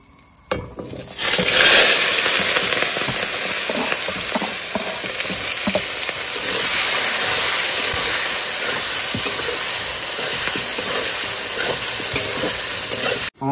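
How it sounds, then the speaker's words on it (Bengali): Ginger, garlic, tomato, green chilli and potato frying in a pan with ground spices, a loud, steady sizzle that starts abruptly and hisses on unbroken, with occasional scrapes of stirring. "মশলা আমার সব ফ্রাই করা হয়ে গেছে।"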